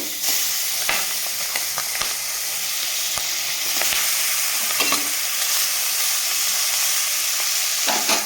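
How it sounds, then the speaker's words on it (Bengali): Fish pieces frying in hot oil, a steady loud sizzle with crackling bursts and occasional stirring clicks throughout, no voices. "আমি তো বাকি মাছগুলোও ভেজে নেব"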